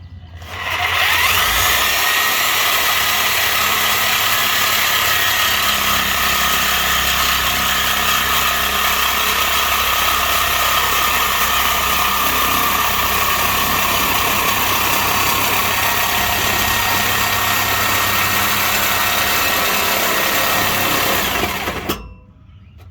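A reciprocating saw cuts through the exhaust pipe of a 1995-2002 second-generation Dodge Ram truck, giving a steady, loud buzzing drone that runs almost without a break for about twenty seconds before stopping, with no talk.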